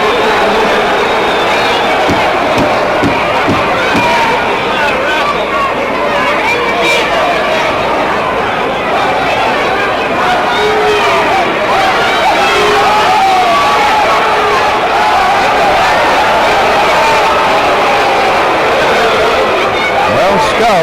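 A large indoor crowd at a 1963 professional wrestling match between Skull Murphy and Harry Wensel keeps up a dense, steady roar of chatter and scattered cheering for the whole stretch, fairly loud and continuous.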